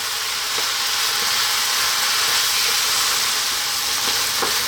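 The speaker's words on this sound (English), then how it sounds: "staying on this lively heat, let's go for about 4 to 5 minutes stirring off them" Pak choy stir-fries in a pan over high heat for a Chinese chicken noodle soup. A loud, steady sizzle hisses without a break, with faint stirring knocks and no voices.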